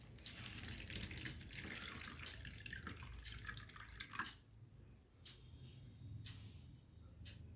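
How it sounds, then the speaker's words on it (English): Water runs and splashes steadily into a container, a continuous liquid rush with a few brief drips and pauses near the end. "I'm going to pour water into it."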